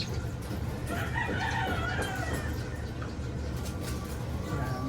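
A gamefowl rooster crows against steady background noise, with other birdsong and faint clucking mixed in, at moderate distance.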